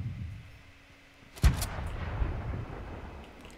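A grenade goes off in Fortnite: one sharp, loud blast partway through, followed by a rumbling decay and faint scattered clatter over a quiet background.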